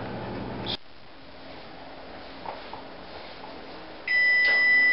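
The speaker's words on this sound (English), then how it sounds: "I'm going to shut the timer off now" A kitchen oven timer sounds a sharp electronic beep, one brief tone near the start and then a steady, loud beeping that begins near the end, with a quiet kitchen in between.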